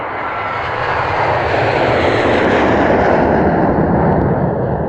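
A fixed-wing airplane roars overhead: a loud, broad engine rumble that swells and then holds steady over five seconds with no talk.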